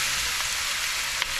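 Pork sautéing in a pan for a pork curry, a steady bright sizzle heard close, with a soft tap from a utensil near the end.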